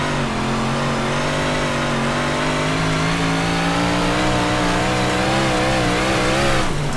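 Big block modified race cars roar around Volusia in iRacing, a loud sustained engine drone with rising and falling pitch as the throttle works through the corner, steady and close throughout.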